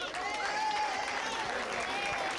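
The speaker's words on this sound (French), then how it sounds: "Éric Ciotti, on peut l'applaudir." An audience at a French legislative election political rally applauds, a dense continuous wash of clapping with a voice over the top through the whole short stretch.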